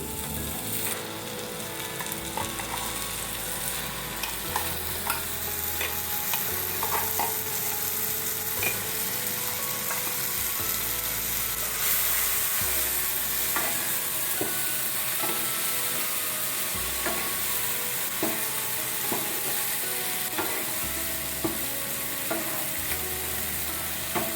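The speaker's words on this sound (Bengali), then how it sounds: "ভালো করে কষানো হয়ে গেছে এবার পেস্ট করা চাল কুমড়োটা দিয়ে দিচ্ছি" Ash gourd paste is stir-fried in a pan with fried spices, sizzling steadily while a spatula scrapes and knocks in repeated strokes across about 24 seconds, with no talking.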